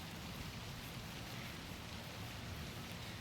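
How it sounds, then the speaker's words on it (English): Steady rain pours down during a thunderstorm, a dense, even hiss that holds at a constant level without pause. No distinct thunder clap stands out. "It's currently raining right now and thundering."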